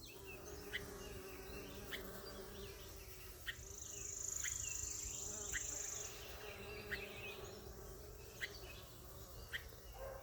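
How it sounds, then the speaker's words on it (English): Bees buzz steadily around a flowering purple beautyberry (Callicarpa) shrub in a garden, a continuous close insect hum with occasional faint clicks and chirps in the background. "you can hear the bees are all over it"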